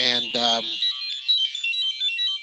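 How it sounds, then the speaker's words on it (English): A phone ringtone chirps steadily through the whole stretch, a bright electronic melody heard at a public forum on recreation, with a voice talking over its first half. "So you have to excuse the phone."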